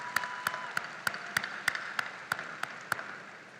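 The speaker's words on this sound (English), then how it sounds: "Graduates, give them a round of applause." Steady, evenly spaced hand claps at a Calhoun Community College commencement as graduates applaud the faculty, about ten sharp, close claps ringing out one after another over a low hall ambience.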